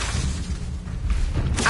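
Confringo spell blasts from Hogwarts Legacy, a fiery explosive burst with whooshing bursts and booms, a loud swelling blast near the end.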